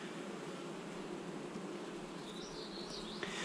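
A dense, continuous buzz of many honeybees swarming close around a beekeeper handling a queen, steady and enveloping with no voices.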